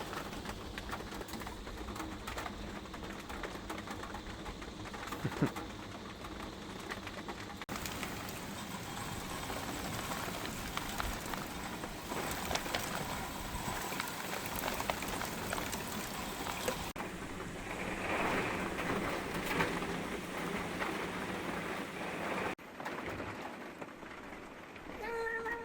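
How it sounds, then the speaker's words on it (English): Hail falls during a thunderstorm while camping in a tent near Devil's Tower (Bear Lodge), making a steady, dense hiss of patter and small taps that continues unbroken for the whole stretch. "getting a little hail here."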